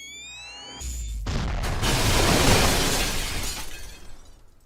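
A power sink explodes in Space Station 14: a faint electronic rising whine abruptly gives way to a huge, loud shattering roar that swells and slowly fades over several seconds.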